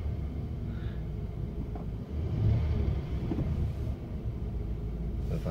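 A car engine idling steadily after the rear defroster is switched off, a continuous low rumble that dips briefly and settles, with no talking.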